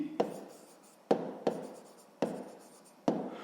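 Pen or pencil strokes write a label onto a pie chart for a sixth-grade math exercise: four crisp, close scratchy bursts, each starting with a sharp tap and trailing off, evenly spaced with quiet between them.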